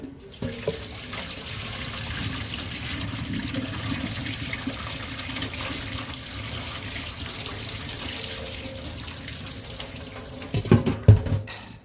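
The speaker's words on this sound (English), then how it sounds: "So I'm gonna wash the peas now." Soaked peas rinsed under a running tap: a steady, close rush of water lasting most of the stretch, ending in a few louder splashes and knocks as the peas are swished about, with no voices.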